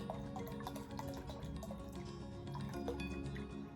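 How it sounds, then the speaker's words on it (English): Rum poured from a bottle into a measuring container up to 750 ml, a faint continuous trickle and glug of liquid with small dripping splashes, close up in a quiet kitchen. "You need a bottle and a half, so I'm going to pour this to 750."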